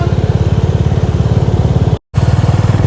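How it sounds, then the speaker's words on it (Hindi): Motorcycle ridden slowly up a winding, climbing mountain road out of Rishikesh in Uttarakhand, its engine thumping in a steady rapid pulse close to the rider, loud and continuous apart from one brief dropout. "तो बड़े आराम से ही मैं बाइक यहाँ चला रहा हूँ"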